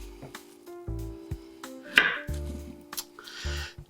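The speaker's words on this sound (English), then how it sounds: "you just slice off a little disc of about a tablespoon" Frozen compound butter cut with a knife into a small disc, giving several sharp chopping knocks against a board along with light handling clatter, close and fairly loud, with no talking.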